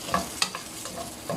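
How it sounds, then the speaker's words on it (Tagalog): Chicken gizzards sauté in a pan, a brief close burst of sizzling broken by quick scraping stir strokes, with no speech. "habang ginigisa natin ang gizzard, chicken gizzard,"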